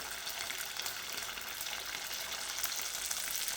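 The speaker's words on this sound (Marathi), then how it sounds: "एक एक वडा आपण या पद्धतीने सोडून तळून घेणार आहोत" Fasting dahi vadas deep-frying in hot oil, a dense, even sizzle that runs steadily and alone throughout, fairly close.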